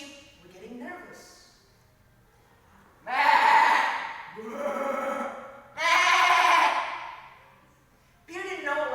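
Sheep bleat in several loud, drawn-out calls spaced a second or two apart, each rising and fading, with a brief higher call near the end; a voice is heard faintly before the first bleat.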